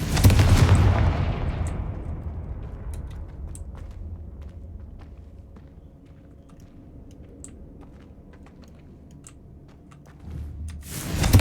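Fire-blast spell going off in Hogwarts Legacy: a loud booming burst that decays into a long crackling, rumbling tail over several seconds, then another strong blast swells at the end.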